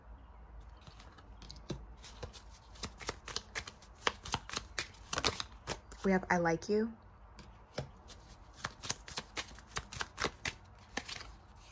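A tarot card deck is shuffled close up in a series of crisp riffling and snapping bursts, with someone speaking softly over parts of it.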